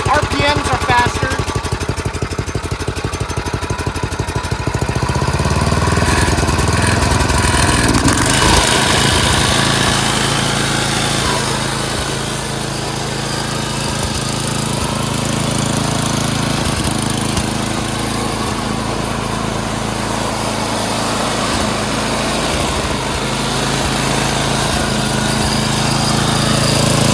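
A snowblower engine with a surging problem runs at raised speed after a quarter turn of the governor screw, a steady loud mechanical drone with an earlier stretch of choppier running, voices faintly present.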